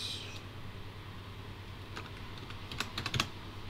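Someone types a folder name on a computer keyboard during a game engine tutorial, producing a short, soft run of quick, close key clicks near the end over a low, steady hum.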